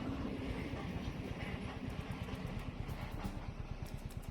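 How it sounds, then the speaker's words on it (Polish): A freight train passes along a railway line with a continuous loud rumble and a rhythmic clatter of wagons rolling over rail joints, recorded nearby from the roadside. "Oczywiście trafiam na zajęty szlak, ale to nic. Ja lubię kolej. Można policzyć wagony."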